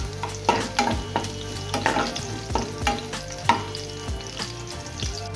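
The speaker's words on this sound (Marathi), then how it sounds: "लसूण इथे भाजून घेतो।" Garlic roasting in a pan for a Goan sardine ambot tik, a steady sizzle broken by repeated scraping stirs at an uneven rhythm, with no talk.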